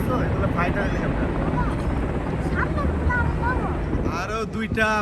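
Military attack helicopters armed with missiles fly past at the Riyadh Air Show 2024 for Saudi National Day, giving a continuous rotor roar and wind buffeting while people talk over it nearby.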